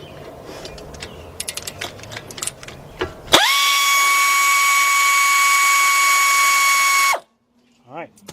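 A power tool loosens a front brake caliper bolt on an Acura/Honda, preceded by scattered clicks and clanks, then a loud steady high-pitched whine for about four seconds, stopping sharply, followed by a brief voice.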